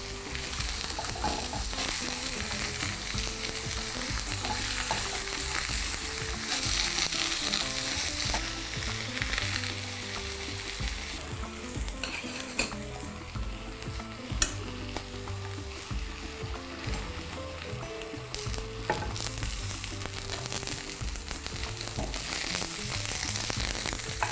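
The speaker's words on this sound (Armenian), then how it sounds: "1 գլուխ սոխ, այսպես ընդամենը մեջտեղից կիսում ենք և կարմրացնում" Halved onion browning in a hot pan, a steady loud sizzle and crackle of frying that continues throughout with occasional stirring scrapes and no talk.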